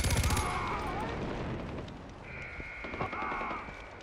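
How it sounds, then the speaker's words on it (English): Machine gun fire in the video game Far Cry 4, with loud rapid bursts opening the clip and further crackling shots and game ambience running through, mixed with sound effects. "This machine gun's legit, though."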